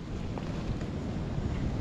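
Strong storm wind buffets the microphone while fishing for carp outdoors, a steady, loud, broadband roar and rumble with no voices.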